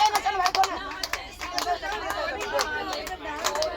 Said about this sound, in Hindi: एक इशारे में ताली बजाओ